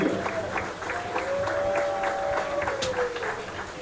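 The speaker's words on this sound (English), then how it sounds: "give a big round of applause for all of our Lane Tech graduates, alumni, and students on the field" Steady applause from a large crowd at an outdoor sports field dedication ceremony, fairly distant, with a faint voice or tone drifting over the clapping.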